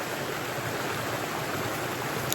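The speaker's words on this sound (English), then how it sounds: "That river here full of stone, guys." A stony river flows steadily over rocks, a dense, constant rushing wash heard close and without voices.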